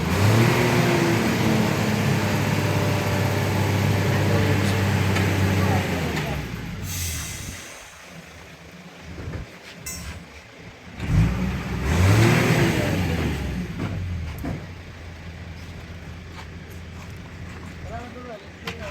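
A Suzuki Wagon R hybrid 4x2 engine revs in a few rising bursts with brief pauses, close by, while people talk over and around it.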